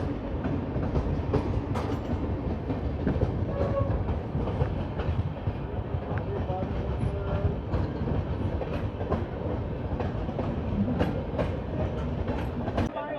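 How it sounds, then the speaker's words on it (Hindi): Sarbat Da Bhala Express hauled by twin WP5 diesel locomotives, a continuous loud rumble of rolling wagons with rhythmic clickety-clack of wheels over rail joints and occasional sharper knocks. "डबल ट्विंस WP5 सरबत दा पला एक्सप्रेस।"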